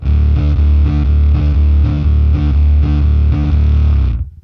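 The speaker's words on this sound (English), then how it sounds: "But if you add in that fuzz and you add the amp sounds again." A bass guitar through a fuzz pedal plays a heavily distorted riff in a steady repeating rhythm, thick and fuzzy, loud and upfront, then cuts off abruptly.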